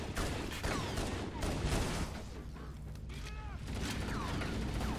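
Close-range gunfire in a Halo co-op match, dense rapid bursts with booming low thuds and whizzing effects running continuously through the clip, fairly loud.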